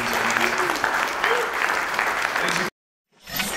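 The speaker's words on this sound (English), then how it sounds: "Let's give him another big round of applause." A conference audience gives a keynote speaker on bitcoin a loud, dense round of clapping that stops abruptly, then after a short silence a brief burst of applause rises again. A voice sounds faintly over the clapping.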